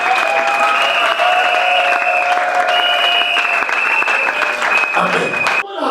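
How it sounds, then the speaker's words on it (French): A church congregation applauds in steady, dense clapping that runs almost the whole time, with sustained singing or voices blended over it, before cutting off abruptly near the end. "Acclamons Jésus."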